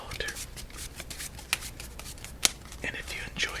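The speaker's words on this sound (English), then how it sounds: "let's shuffle up these cards" Spiderman-themed deck of playing cards being shuffled up close, with soft riffling bursts, a few sharp snaps and quiet hand rustles throughout, no talking.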